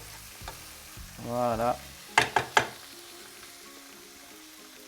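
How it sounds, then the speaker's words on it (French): Chorizo and courgettes sizzle softly in a pan as a spoon stirs them with a brief scraping pass, followed by a few sharp clinks; a voice says a word quietly at the start. "Voilà, je touille un coup."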